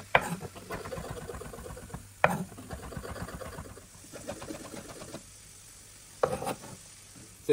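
Onions fry in a pan over medium heat with a soft, steady sizzle and occasional clinks and scrapes of stirring, faint and close, with no talking.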